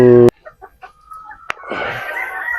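Pullets of sweater and Boston chicken crosses cluck in a few short, soft calls, then a burst of louder flock chatter and rustling swells and carries on to the end after a sharp click.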